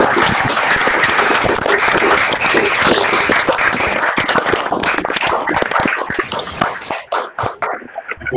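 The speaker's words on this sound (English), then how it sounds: "turn on their microphones and clap your hands as an acknowledgement" Online lecture audience clapping over open microphones in acknowledgement, a dense, loud and continuous patter of many hands that thins into scattered claps near the end.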